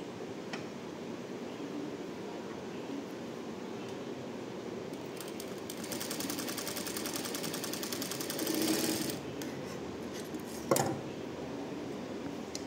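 A sewing machine runs an edge seam along a slit opening with a steady, fairly quiet mechanical whir and a brief louder rattle near the end. No voices are heard.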